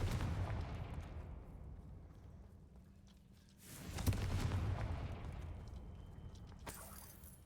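A Confringo blasting spell from Hogwarts Legacy goes off as a deep, booming blast that swells after a rumbling lull and then trails off in a long roar.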